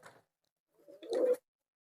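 A short burst of soft cooing from a pet pigeon, close by, after a brief muffled sound and a pause.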